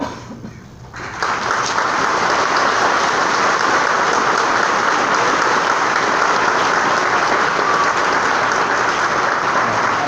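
A graduation audience applauds sixth-grade award winners in a long, dense, steady burst of clapping that starts after a quieter second and holds loud and even to the end.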